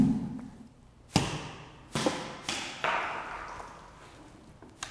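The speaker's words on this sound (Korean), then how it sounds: "이렇게 폭발하는 것이 디젤 엔진입니다" Diesel fuel sprayed onto heated, compressed air in a fire-safety science demonstration ignites in a series of sharp bursts, five separate thumping pops over a few seconds, each followed by a brief hissing decay, close by with no talk.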